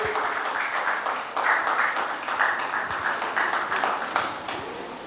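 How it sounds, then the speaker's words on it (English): A big round of applause for Yogesh at a trade conclave session, steady crowd clapping from a sizeable audience, sustained and fairly even over the whole stretch. "A big round of applause for Yogesh."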